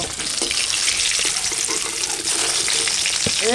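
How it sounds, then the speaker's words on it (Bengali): Hilsa fish frying in oil gives a loud, dense, continuous sizzle that fills the scene, with a few faint knocks and a brief chirp-like squeak near the end. "সুন্দর করে মাছ ভাজে নিচ্ছি এখন তুলে নেব"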